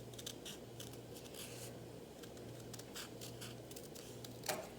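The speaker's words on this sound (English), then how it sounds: "So with my scissors, I'm gonna trim." Scissors snipping through folded paper for a Valentine's heart chain, a series of faint, crisp cuts in short bursts over a steady low background hum.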